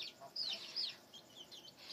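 Soft, scattered baby chicken clucks and chirpy calls in a nursery run, fairly faint, with quiet background noise and no talking.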